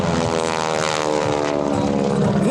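A propeller-driven aerobatic airplane weighing just over 5,000 pounds drones loudly and steadily overhead at an airshow, its engine holding a constant throbbing tone with no gaps.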